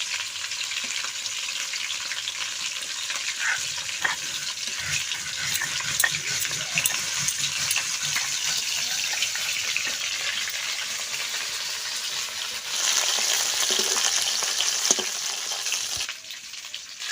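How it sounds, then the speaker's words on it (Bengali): Snakehead fish frying in a pan, a dense, steady hiss of hot oil that holds loud and even throughout, swelling briefly near the end, with no voices. "মা ওইদিকে শোল মাছটা ভাজতে ভাজতে আমার বাটা বসাটা হয়ে গেল"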